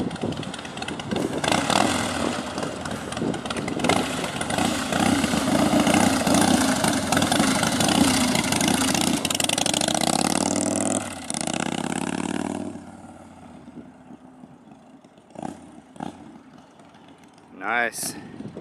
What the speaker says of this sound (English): Now the bike sounds awesome. Springer Softail, looks like it's got a chrome swing arm.